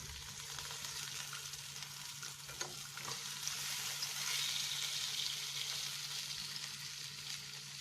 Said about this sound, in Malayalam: ഒരു വശം നന്നായി ഫ്രൈ ആയി കഴിഞ്ഞാൽ നമുക്ക് തിരിച്ചിട്ട് കൊടുക്കാം